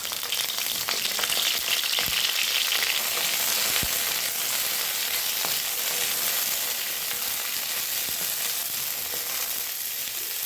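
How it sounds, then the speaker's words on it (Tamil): Bitter gourd sautéing in a pan gives a constant, close, dense sizzle with small crackles and occasional light stirring taps, and no voices over it. "பாவக்காயை வதக்கிக்கலாம்"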